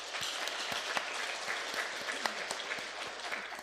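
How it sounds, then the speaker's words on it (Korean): A church congregation at a Korean Sunday worship service applauding students after a baptism, with steady, dense clapping from many people throughout and no talk over it. "우리 4명의 우리 학생들 위해서 큰 박수로 축하해 주시기 바랍니다."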